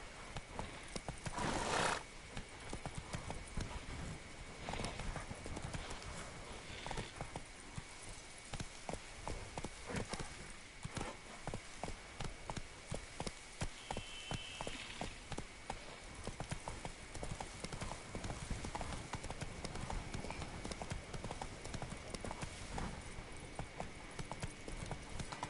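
Hoofbeats of a horse galloping in The Witcher 3: Blood and Wine keep up a rapid, even clip-clop rhythm for the whole stretch, with a short neigh near the start and no talking.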